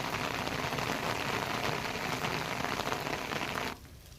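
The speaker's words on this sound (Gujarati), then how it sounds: "વહેલી સવારથી જ વરસાદ વરસી રહ્યો છે।" Heavy monsoon rain in Amreli, Gujarat: a dense, even roar of rain on surfaces that continues steadily, then abruptly drops to a much softer patter near the end.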